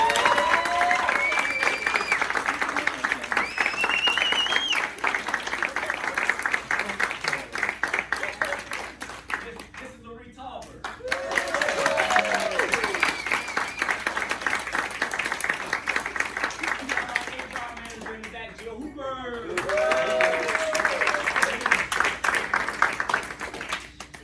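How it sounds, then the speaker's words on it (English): Conference audience applauds at the close of an event, the clapping dense and sustained in long waves that fade and swell again, with brief gaps where a voice comes through near the mic. "Karen, please give her a round of applause"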